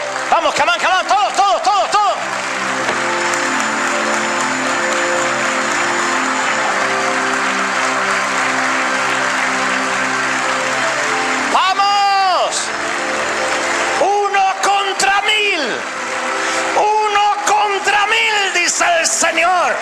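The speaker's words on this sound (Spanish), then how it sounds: "Vamos a dar ese aplauso, el primero del año" A church congregation at a service applauds and cheers, with whoops and shouts over sustained clapping, while an amplified voice speaks and sings over the crowd throughout.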